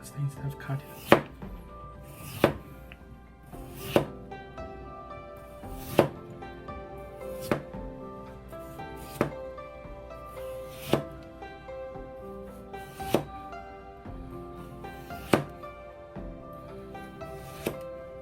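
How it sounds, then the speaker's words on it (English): A potato being sliced very thin with a knife on a cutting board, sharp regular chops about every one to two seconds, close and clear over a faint background. "So we just hold it and cut it, slice it very thin."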